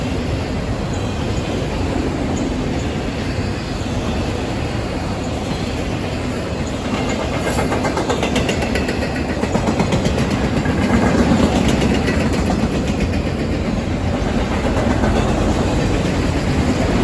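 A freight train hauled by three diesel locomotives, two GE Evolution units leading, rumbles past close by, steady loud rolling roar with rhythmic clattering of wheels over rail joints throughout.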